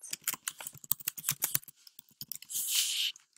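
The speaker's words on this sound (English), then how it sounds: "we'll just go ahead and come over here and type some text out" Fast typing on a computer keyboard, a dense run of crisp, close key clicks for over two seconds, ending in a brief hissy swipe.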